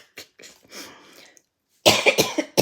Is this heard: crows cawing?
no